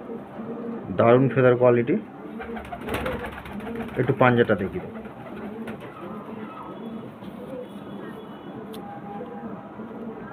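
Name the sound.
pigeons cooing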